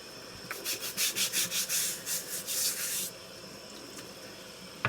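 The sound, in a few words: brushing abrasive residue off honing stones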